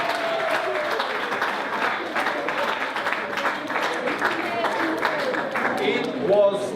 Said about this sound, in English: can I ask for a round of applause for Charlo?